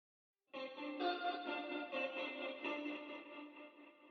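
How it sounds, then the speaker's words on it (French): An electric guitar runs through a chain of amp simulation, reverb, delay, tremolo, EQ and compression, ringing out as a sustained, shimmering chord with a long echoing tail and gentle pulsing, alone after a brief silence. "On rajoute un guitar rig, une reverb, un delay, tremolator, RC20, petit EQ, petit compresseur sur la fin."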